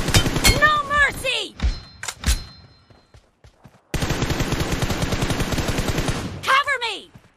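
Automatic M416 rifle fired in sprays in PUBG Mobile, loud rapid bursts near the start, a few single shots, then a long sustained stream of fire, with game voice lines in between.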